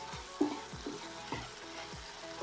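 Bihon ingredients fry in a pan until brownish, giving a steady close sizzle with several soft scraping stirs at a regular pace and no talking.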